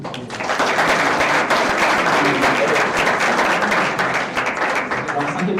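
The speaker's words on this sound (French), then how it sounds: "vous pouvez l'applaudir." An audience at a startup pitch event in Tarbes applauds in a dense, sustained burst of clapping, loud and close, with voices mixed in throughout.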